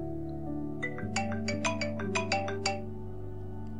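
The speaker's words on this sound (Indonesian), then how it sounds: "Benda pipi Riko berdering" A mobile phone ringtone plays a bright, rhythmic electronic melody of about a dozen quick notes over a low background hum, then stops.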